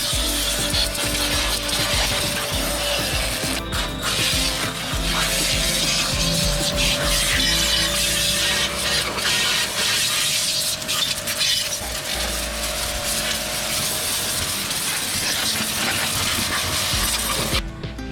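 An 1800W budget high-pressure washer running at full force, a loud, continuous mechanical whir with a steady pump hum and rattling buzz close by, sustained evenly from start to finish with no talk.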